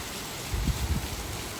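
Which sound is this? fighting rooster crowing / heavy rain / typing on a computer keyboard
heavy rain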